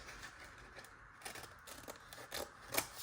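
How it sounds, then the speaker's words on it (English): Scissors snip through paper ephemera for a grungy steampunk postcard, a few quiet, close crisp cuts and rustles with a sharper snip near the end. "let's cut that one out"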